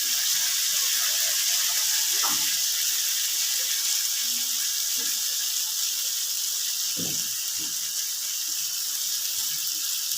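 A bowl of water poured into a pan of curry with fried spices and potatoes for a fish kalia, a steady broad rushing wash throughout with a few faint clinks and knocks from the pan.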